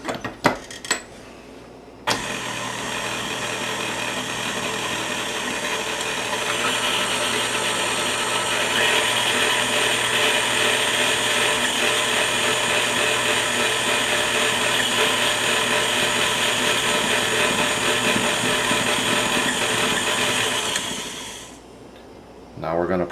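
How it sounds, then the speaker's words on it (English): An electric mixer whirs steadily for about twenty seconds, blending powdered sugar and vanilla into buttercream icing, its motor hum loud and even before it stops. "we're going to blend that all together"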